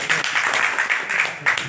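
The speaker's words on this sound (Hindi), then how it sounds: "जोरदार तालियां" A mushaira audience breaks into loud, dense applause, many hands clapping at once in a continuous patter that swells briefly toward the end.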